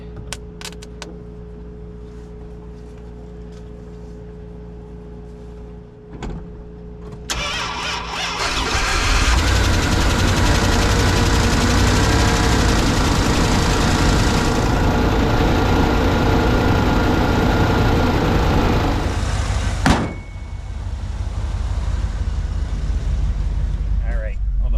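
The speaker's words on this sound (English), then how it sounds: "run for the plow truck. First time it's moved" A plow truck's engine turns over and settles into a loud, steady idle lasting more than ten seconds, then cuts off abruptly, with quieter ambient noise before and after.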